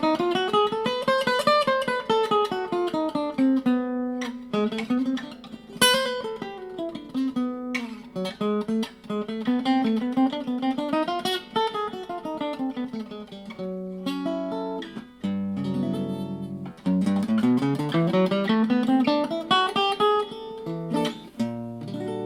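A 1965 Guild X-50 acoustic guitar played unplugged, with sustained strummed chords and picked melodic runs ringing continuously at close range, steady and full throughout with no voices.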